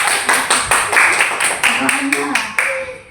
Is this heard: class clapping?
yes